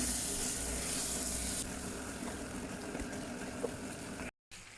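Egg with mung dal fries in a pan, giving a steady, close sizzle that softens partway through before a brief dropout near the end.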